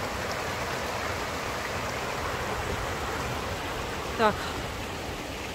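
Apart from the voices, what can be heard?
river stream flowing while crossing it on foot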